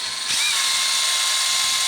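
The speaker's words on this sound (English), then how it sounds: "And now I'm going to drill a hole," A power drill whirs up to a steady, high-pitched whine and holds it while boring a quarter-inch pilot hole in a motorcycle fairing fuel filler door, close and loud, with no voices.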